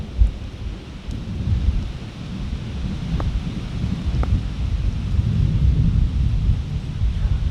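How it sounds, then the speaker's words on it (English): Rain and thunder outdoors at a priory: a steady roar of rain with low rumbling thunder and wind buffeting the microphone, continuous and fairly loud throughout, with a couple of faint distant clicks. "It's raining."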